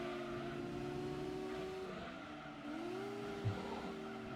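Race car engines in a racing video game whine and rev steadily, pitch dipping briefly as gears shift and climbing again, with a faint tyre squeal and a small bump near the end.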